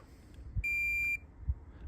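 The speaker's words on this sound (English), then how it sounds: "We want to go on the side of them and hear them beep." A single high, steady multimeter continuity beep lasting about half a second while testing alternator stator windings, framed by a couple of soft clicks and taps.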